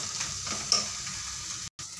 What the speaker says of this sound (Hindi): अब इसमें मैं थोड़ा टमाटर डाल के फिर एक बार इसको अच्छे से भूनूंगी